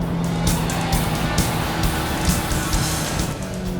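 A BMW X6 M is driven hard with traction control switched off on the BIC circuit, giving a close engine roar with repeated short bursts of tyre squeal and skidding over the throbbing exhaust.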